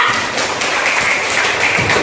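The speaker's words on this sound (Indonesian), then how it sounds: "Berikan tepuk tangan untuk kelompok 2" Students in a classroom clap for a group after its discussion presentation, a loud, continuous wash of many hands that stays even from start to finish.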